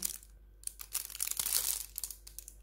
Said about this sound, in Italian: mamma mia sto rumore, sta carta, sta plastica